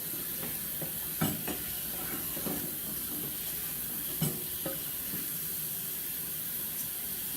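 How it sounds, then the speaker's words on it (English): A mixing bowl is rinsed under running water in a home kitchen, giving a steady hiss of flowing water with a few soft knocks and clinks as the bowl is handled. "So we're gonna rinse the bowl again."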